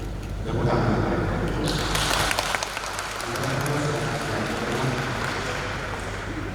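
Sustained applause from a congregation greets a newly married couple at a wedding blessing in Santa Maria church, Kampung Pinang, a dense, steady patter of clapping filling the room for several seconds.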